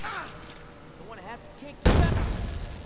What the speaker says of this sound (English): Oh yeah, the fireworks.